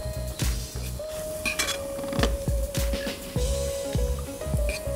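Cooked red lentils and carrots are scooped onto a plate, with repeated clinks and scrapes of a utensil against dishes in an irregular rhythm over a steady background tone, no talking.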